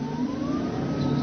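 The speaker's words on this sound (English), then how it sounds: "and the motor sounds like a little sports car." A battery-free magnetic motor in an electric car runs in gear with a steady mid-pitched hum and a thin whine that slowly rises in pitch. It is close and continuous.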